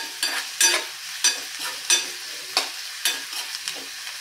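A spatula mixes frying cauliflower manchurian with chopped coriander in a pan. About eight regular scraping strokes sound over a soft sizzle, close and clear.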